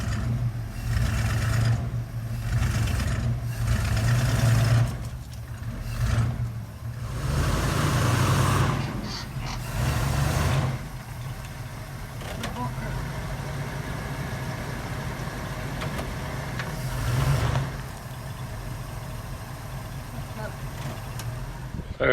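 A 1975 Chevy C10 pickup, brakes once locked up and the truck unmoved for 18 years, rumbles with a low engine drone that swells and eases as it creeps along, with voices talking over it.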